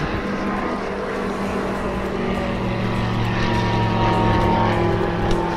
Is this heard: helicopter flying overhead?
yes